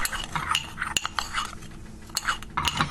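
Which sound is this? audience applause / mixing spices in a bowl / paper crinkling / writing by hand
mixing spices in a bowl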